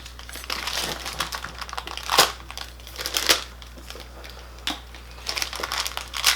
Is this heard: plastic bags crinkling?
yes